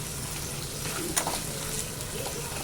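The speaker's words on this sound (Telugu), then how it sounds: "సో మధ్యలో ఇలా కలుపుకుంటూ అయితే నేను ఫ్రై చేసుకుందాము." Mutton spleen (tilli) fries in a pan with a dense, steady sizzle, and a sharp scrape of stirring cuts in midway, heard up close without talk.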